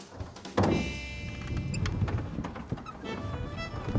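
A spring-loaded secret bookcase door swings open on its hinge after a book is pulled, starting with a sudden loud clunk and followed by rattling and creaking. Scattered knocks and scrapes continue close by as it settles.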